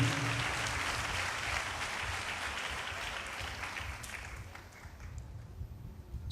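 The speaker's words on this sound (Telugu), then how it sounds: "చప్పట్లు కొట్టి దేవుని మహిమపరుద్దాం గట్టిగా." A church congregation claps in applause, a steady dense patter of many hands that holds for several seconds and then thins and tapers near the end.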